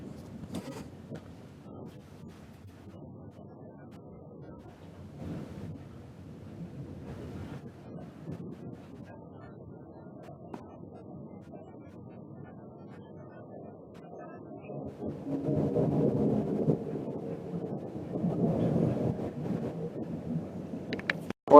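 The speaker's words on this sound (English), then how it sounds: "that's our first thunderstorm over and done with" A thunderstorm in Negril, Jamaica brings low rolling thunder and steady rain hiss, fairly quiet and distant at first, then swelling louder toward the end with no voices.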